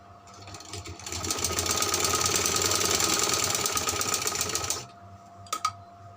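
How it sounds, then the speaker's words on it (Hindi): A sewing machine stitching frock fabric runs in one steady burst of rapid mechanical chatter for about four seconds, then stops, followed by a couple of brief clicks, close by. "बॉडी के ऊपर रखकर यहाँ से हमने सिलाई लगा लेनी है।"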